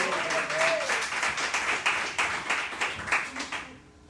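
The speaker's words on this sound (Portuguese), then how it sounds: "Aplauda ao Senhor com o seu melhor." A church congregation at Igreja de Nova Vida do Catete claps steadily in a sustained round of applause, with voices mixed in, before the clapping tapers off at the end.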